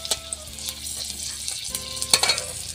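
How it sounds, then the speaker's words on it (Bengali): Garlic and dried red chili sizzle in hot mustard oil in a village kitchen pan: a loud, crackling fry with scattered pops and stirring scrapes, no talking. "তেল গরম হয়ে গেছে, আমি রসুনটা দিয়ে দিলাম, শুকনো লঙ্কা দিয়ে দিলাম।"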